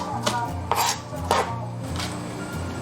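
A kitchen knife chops coriander (cilantro) on a cutting board in a home kitchen, a run of close, crisp strikes coming in quick bursts with short pauses between them.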